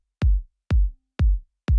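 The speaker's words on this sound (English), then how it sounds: "these sine waves from Ableton Live, sub sine bass, sounds fantastic" Four deep sub sine bass synth notes from Ableton Live sound in an even rhythm, each a short low boom with a soft attack, alone and without voices.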